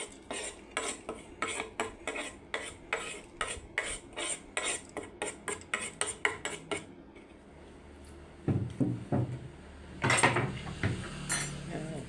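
Utensils clink and scrape against a bowl in a quick, regular rhythm while tossing a banana blossom and chicken salad with herbs, then pause before a few louder scrapes and clatters.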